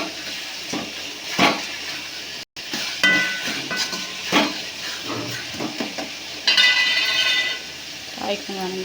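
Radish being stirred and sautéed in a frying pan, with a soft sizzle under repeated scraping and clinking of a spatula against the pan at close range, plus a brief louder hiss partway through.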